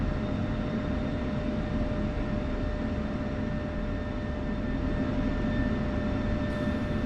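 An F-16 jet taxis toward the runway at Nellis AFB in the DCS flight simulator, a constant loud engine whine and roar with steady tones, no speech.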